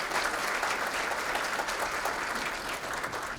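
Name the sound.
audience applause at awards ceremony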